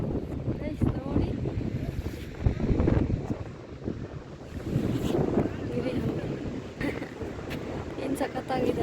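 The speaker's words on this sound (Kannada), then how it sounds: "ಸಿಕ್ಕಾಪಟ್ಟೆ ಗಾಳಿ ಇದೆ." Strong wind at Marina beach in Chennai buffets the microphone in loud, gusty rumbling bursts, with a rough roar that rises and falls and a faint wash of the sea behind it.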